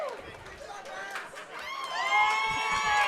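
A crowd at a mixed martial arts event cheers and whoops for the winning fighter, Big Max, as he raises his arms. The roar swells louder in the second half, with excited shouts over a steady wash of crowd noise and commentary talk.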